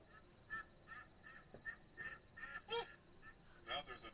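A duck honks repeatedly outdoors, a series of short nasal calls spaced about half a second apart, moderately near and fairly quiet against a low background hum.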